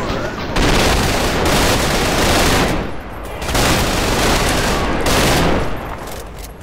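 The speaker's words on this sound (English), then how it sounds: "Why are you shooting at me?!" Sustained loud gunfire in the video game Trepang2, dense rapid bursts in long stretches with short gaps between them, close and filling the scene.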